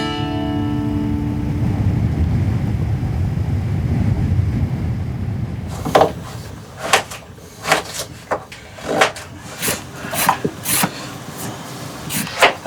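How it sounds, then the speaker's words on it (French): Cold north wind blows at a cabin on Innu land at minus 29, a steady low roar against the microphone for about six seconds, followed by scattered sharp wooden knocks and clunks close by. "ça vente un peu par là. Le vent du Nord encore"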